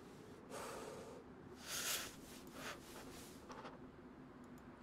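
Soft, close character breathing in the survival game DayZ, set in Chernarus: a few quiet, airy puffs and a slightly stronger gasp-like breath over faint background noise, with no talking.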